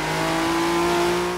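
Ford GT40 engine in the Forza Horizon 3 racing game, a loud, steady droning hum held at constant revs throughout, close and alone with no speech.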